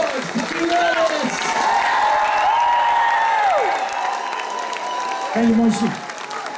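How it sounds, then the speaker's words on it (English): Cruise passengers applauding and cheering, a crowd clapping beneath someone speaking over a microphone, with melodic whoops and voices rising through the applause. "a big round of applause to you guys, because you guys made this cruise happen by coming along"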